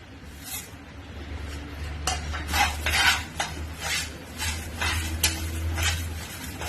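Urad dal dry-roasting in a hot pan on a gas stove while being stirred, giving repeated scraping and rattling strokes with a faint sizzle and a steady low hum underneath, close and moderately loud with no talk.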